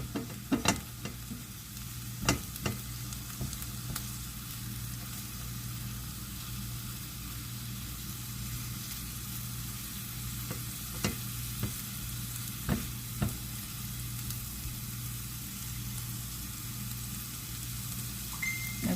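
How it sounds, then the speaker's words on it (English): Asparagus spears fry in a pan with a steady, even sizzle, with a few sharp clacks as they are moved and turned, close and moderately quiet under a low hum, no talking. "I'm gonna let these just cook like this for about 1 to 2 minutes on each side"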